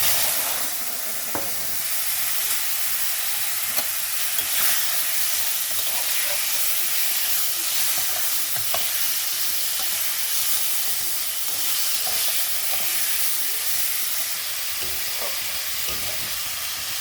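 Ripe mango pieces frying with fennel seeds and dried red chillies in an overheated kadai for mango chutney, giving a continuous close hiss and sizzle with occasional faint stirring clicks and no talking.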